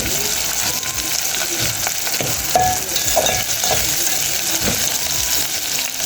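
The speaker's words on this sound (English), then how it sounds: "So let's fry our onion." White onion and garlic fry in hot oil with a loud, steady sizzle and crackle, close up and continuous, with faint stirring and no talk.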